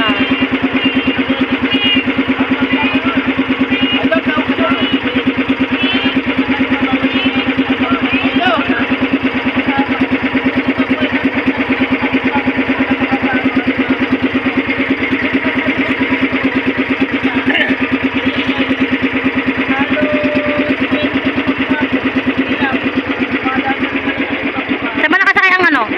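An engine runs steadily throughout with a constant mid-pitched drone, close and loud, with voices talking over it.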